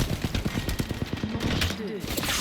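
Rapid gunfire in a Titanfall-style shooter game using Kraber and Volt weapons, a quick burst of sharp repeated shots with a few louder cracks, close and punchy, with game voice chatter mixed in.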